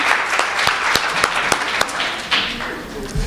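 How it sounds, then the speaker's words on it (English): An audience bursts into applause at a gathering, with sharp individual claps ringing out near the microphone over a few seconds, loud and somewhat scattered rather than dense. "Give yourselves a round of applause."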